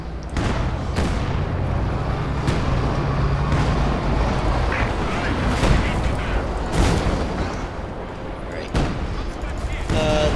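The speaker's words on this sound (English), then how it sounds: "Let's get my field gun to fire on that position." A field gun booms repeatedly in a World War II strategy game, with sharp blasts standing out from a continuous rumble of battle and scattered gunfire, and talk running over it.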